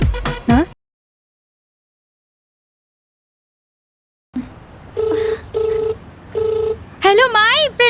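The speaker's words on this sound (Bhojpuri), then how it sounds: "तू माई के फोन लगावा ना।" A phone rings through on a call: after a brief voice and a pause, a few evenly spaced ringback tones pulse out, then a voice answers at the end.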